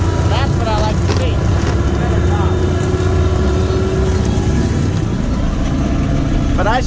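A lawn mower engine runs steadily at about 2200 RPM while mowing through snow, a continuous close mid-pitched drone that holds even throughout.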